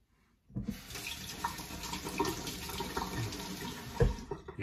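Tap water runs into a sink to rinse a razor during a shave, starting abruptly after a short silence and then streaming steadily up close with small splashes and clinks.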